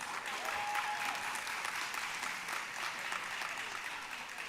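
Applause from the audience follows a choir performance at a 2022 UTT graduation ceremony, a steady wash of many clapping hands at moderate distance that holds evenly and tapers slightly toward the end.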